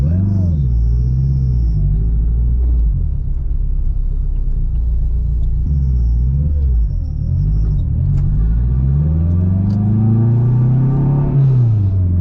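Cabin drone of a boosted turbo K24 engine in an AWD Acura RSX Type S with a twin-disc clutch while driving, a loud continuous low rumble rising and falling with revs, with a voice talking over it.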